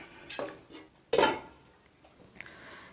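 A spoon scrapes and clinks against a pot of chicken curd masala, a few short bursts of stirring with one louder scrape in the middle, close and alone with no talk.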